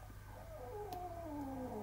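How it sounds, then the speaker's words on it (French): Two pet cats, a female and a male, fight indoors, with drawn-out rising and falling yowls and growls over a faint low hum. "Vous entendez mes chats qui se battent."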